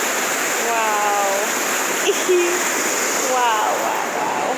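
South Branch Falls in Baxter State Park pours in a loud, steady broadband rush of falling water, constant throughout, with people talking over the roar.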